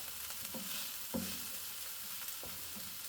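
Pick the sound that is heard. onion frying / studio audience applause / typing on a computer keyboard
onion frying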